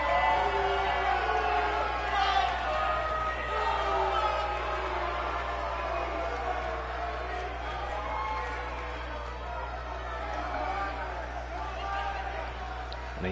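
A wrestling audience cheers and shouts across a long stretch, a continuous roar of voices and whoops with a steady low hum underneath. A commentator speaks over it.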